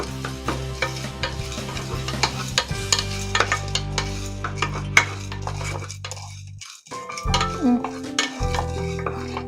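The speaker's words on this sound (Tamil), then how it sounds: "வெறும் எண்ணெய் இல்லாமல் அப்படியே பேனில் வந்து ட்ரை ரோஸ்ட் பண்ணணும்." Lentils dry-roast in a pan without oil, a dense run of stirring scrapes and light rattling as the spoon turns them, close and continuous with a brief pause near the end.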